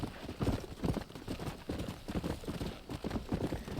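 Horse hooves clip-clop steadily and fairly close in Red Dead Redemption, several animals trotting on the ground in a Mexican setting, with a continuous rhythmic patter and no voices over it.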